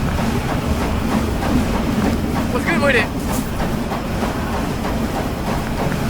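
Steady rumbling of a video game train rolling along its tracks in Wild West, with a voice talking briefly over the continuous clatter.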